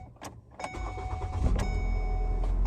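A Ford Focus starts up with a short, sharp crank, then settles into a smooth, steady, low idle that carries on close by with no one talking.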